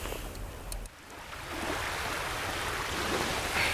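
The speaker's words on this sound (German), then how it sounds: "Bisschen Welle, bisschen Wind, aber ein ganz bisschen Welle nur." Light surf laps the Baltic shore at Puttgarden while wind buffets the microphone. Together they make a steady, moderately loud wash with no talking.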